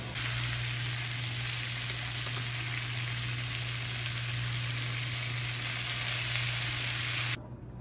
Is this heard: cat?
no